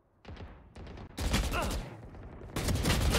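Rapid gunfire bursts in a competitive shooter video game match, sharp repeated shots in clusters with brief gaps, loud and close, with faint voice chatter beneath.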